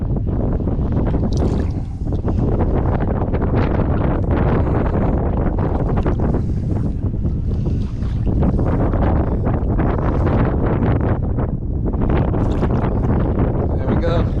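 Strong wind roars steadily into the microphone while fishing from a boat in a tropical storm, loud and continuous throughout with a few brief dips and bits of talk underneath.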